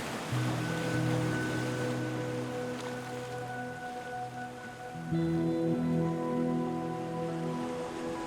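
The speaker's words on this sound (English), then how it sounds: "looking straight down at the relentless roar of the waves" Relentless ocean waves crash and wash far below the 700-foot Cliffs of Moher on Ireland's west coast, a steady broad roar with swelling surges, heard alone and at moderate distance.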